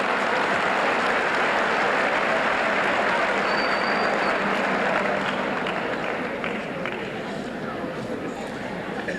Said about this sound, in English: could you give Pompey another hand?